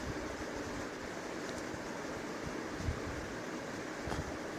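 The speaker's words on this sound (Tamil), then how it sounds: "இப்போ தண்ணி கொதி வர ஆரம்பிச்சிருச்சு." Water boils in a cooker with rice and green gram, a constant rushing, hissing bubble that stays steady and moderately loud throughout with faint scattered pops.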